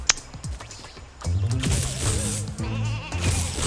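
Sheep in a video game bleat repeatedly, wavering nasal cries that overlap and persist at close range above a dense layer of game sounds and clatter.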